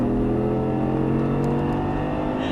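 An Audi R8 on a race track accelerating with a steady, loud, droning engine note that holds throughout, heard close from inside the car with no talk.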